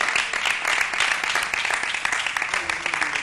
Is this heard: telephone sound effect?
no